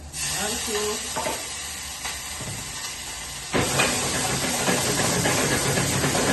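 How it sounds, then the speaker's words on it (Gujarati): Asafoetida and spices tempered in hot oil for Gujarati kadhi, a steady hissing sizzle that jumps abruptly louder midway as more goes into the pan, with faint stirring. "અત્યારે હવે હું વઘાર કરી રહી છું કઢીનો"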